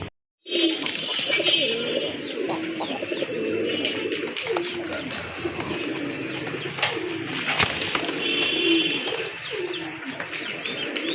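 Desi pigeons coo repeatedly at close range, their soft rolling calls overlapping in a steady series against faint chirps in the background.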